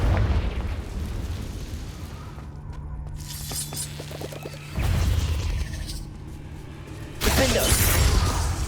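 Confringo spell blasts in Hogwarts Legacy, with repeated bursting explosions and crackling impacts over a steady low hum of combat ambience, loud and close.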